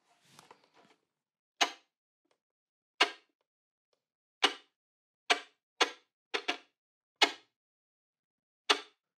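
Percussive chopping strokes on a violin, a bow struck against the strings to make a purely rhythmic sound: about ten sharp, dry, evenly spaced chops, close and alone after faint handling noise at the start.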